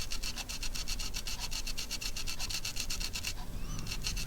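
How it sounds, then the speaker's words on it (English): Short old brush with cut-back bristles gently scraping paint off a plastic Airfix Hurricane model, a steady, rhythmic close-up scratching with quick repeated strokes, continuous and fairly soft. "scrape away at that paint"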